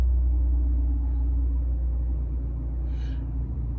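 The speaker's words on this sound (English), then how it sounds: "It's kind of a noisy engine for a little teeny car like that." A small car's noisy engine drones in a steady, loud low rumble from inside the vehicle, with no talking over it.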